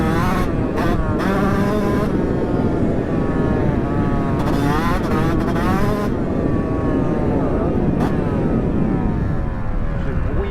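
A Yamaha YZ125 two-stroke dirt bike engine, warmed up, runs loud and close, its rising and falling revs sweeping up and down in short throttle blips over a constant buzzing drone.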